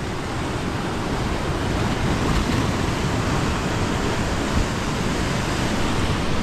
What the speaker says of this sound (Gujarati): દરિયાનો અવાજ ખાલી તમે સાંભળો, દરિયો જે ઘૂઘવાટા કરી રહ્યો છે